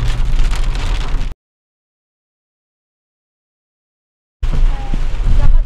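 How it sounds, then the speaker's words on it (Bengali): Heavy rain drums on a car driving past a market toward a toll plaza near Palashi, a dense steady wash that cuts to silence midway and then returns loud. "প্রচণ্ড বৃষ্টি হয়েছে, প্রচণ্ড বৃষ্টি, রাস্তা দেখা যাচ্ছে না"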